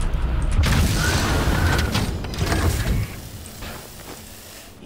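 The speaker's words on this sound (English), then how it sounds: "grenade!" A Halo 2 grenade blast sounds as a loud, low boom with a rumbling, crunchy decay over several seconds amid game noise, fading toward the end.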